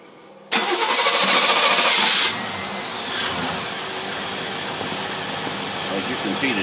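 An engine fitted with a Motorcraft single-barrel carburetor cranks and catches with a sudden loud burst, roaring for a moment before settling into a steady, slightly uneven idle with the choke on.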